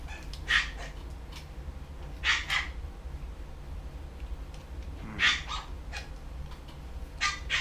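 A dog barks in four separate short bursts, with some whimpering yips between them, heard over a low indoor hum while a cat attacks it.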